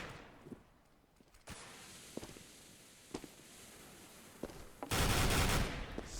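Scattered gunfire in Counter-Strike on the Mirage map, spraying blind into a smoke cloud during a Starladder XIII esports match: sharp single and short-burst shots spaced through the clip, then a louder sustained blast of fire near the end.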